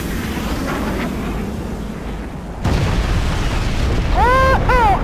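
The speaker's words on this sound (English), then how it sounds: "Bombs away." Bombs detonate in the video game Crysis Warhead during an air strike on a beach resort base, a sustained low rumbling blast swelling loud, with short radio-like voice chatter near the end.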